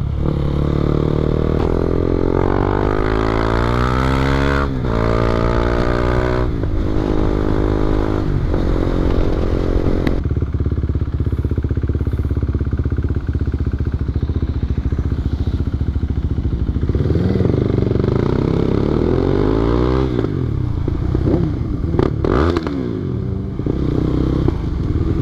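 A motorcycle engine revs and accelerates loudly and close up, its pitch repeatedly climbing and dropping through gear changes, with a quieter, steadier stretch in the middle before it winds up hard again.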